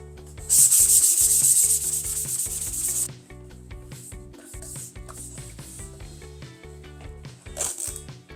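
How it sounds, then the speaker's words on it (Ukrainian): Hand sanding primed pine wood with P180 abrasive paper, a loud scratchy rubbing burst followed by quieter intermittent strokes over a steady musical background. "Проміжна шліфовка рекомендується абразивом зерна P180."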